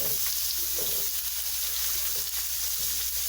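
Onions frying in hot oil over medium heat, a steady, dense hiss of sizzling at a fairly even level, with a few soft stirring knocks.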